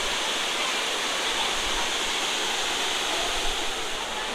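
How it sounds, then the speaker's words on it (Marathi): The Bhagirath waterfall near Mumbai roars as a thick, steady wash of falling water, loud and continuous, with no talk. "बघू शकता धबधबा वाव"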